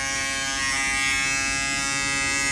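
A cordless Andis reSurge electric foil shaver runs with a steady, close, continuous high-pitched buzz and no talking over it.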